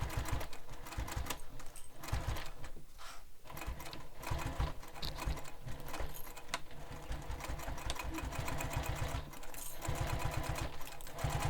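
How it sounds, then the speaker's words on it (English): A sewing machine runs in fast, steady bursts of rapid needle stitching while basting fabric pieces of a sling pack together within the seam allowance. The machine is close and loud, with short pauses between runs. "I'm going to baste these together"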